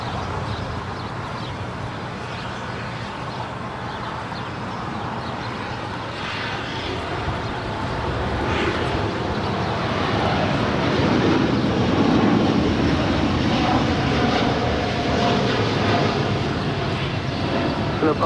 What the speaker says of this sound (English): That was All Nippon Airways 125 Heavy departing to Tokyo Haneda. It's a 787-8 Dreamliner.